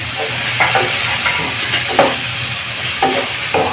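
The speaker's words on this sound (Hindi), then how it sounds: "ऐसे चला चला शिमला मिर्च को अच्छे से फ्राई कर लें।" Chopped capsicum sizzles steadily in a hot pan for a besan sabzi while a spoon stirs it in several scraping passes, loud and close with no talking.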